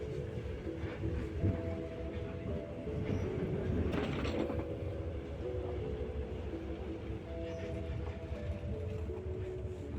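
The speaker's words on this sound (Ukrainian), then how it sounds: "Ми вже їдемо в поїзд." A train rolls steadily along the rails with a continuous, close rumble, a clickety-clack of wheels over joints and a slight metallic whine, with no talk over it.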